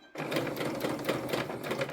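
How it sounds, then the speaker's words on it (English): Stitching on a sewing machine for a tote bag, a steady, fairly loud whirring hum at medium-to-slow speed runs continuously and close by with no voices. "You can choose the speed of your sewing machine. I'm doing it medium to slow."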